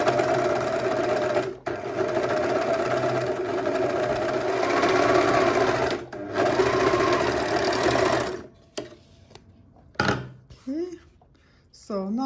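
A serger sews a two-thread overlock seam along a fabric edge, its steady, fast mechanical whir running continuously for about eight seconds, pausing briefly twice, then stopping into quieter handling noises and brief talk near the end.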